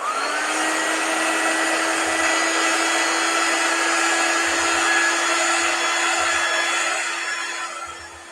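A hair dryer blows steadily to dry chalk paste on a pumpkin cutout. It gives a loud, continuous whirring roar close by, with no talk, and fades slightly at the end.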